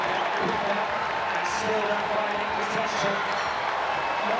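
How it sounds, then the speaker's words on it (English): A large crowd at a World Athletics Championships stadium in Oregon cheers and applauds as a steady, dense roar throughout, with no single voice standing out. "Crowd really getting involved here, Gail."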